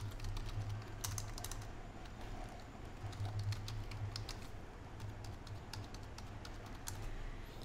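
Fingers type a username and password on a computer keyboard, a steady run of quick, close clicks over a low background hum.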